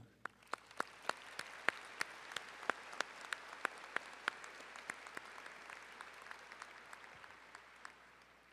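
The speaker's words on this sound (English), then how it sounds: "One more round of applause for Hayes Burnham." Applause rings out at a business school's spring commencement ceremony. Faint, crisp claps arrive at an even, steady pace over several seconds and sound somewhat distant in a large hall.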